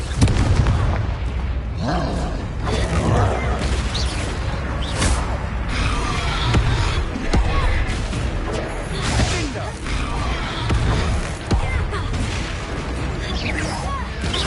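Repeated fire-spell blasts in a wizarding video game, several sharp bursts and crashes scattered over mechanical clatter, with a voice shouting incantations throughout.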